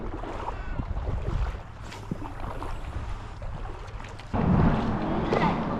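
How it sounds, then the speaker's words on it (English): A kayak glides past in shallow river water in early spring, its hull and paddle making soft continuous watery swishing under outdoor wind noise, with a louder burst of splashing near the end. "Just let the kayak go by"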